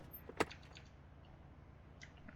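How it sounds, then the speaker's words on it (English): Cabin door of an A2A Cessna C182 shutting in a flight simulator: a single sharp thump near the start, then a quiet low cabin hum with a faint click toward the end. "I'm going to reshut this door"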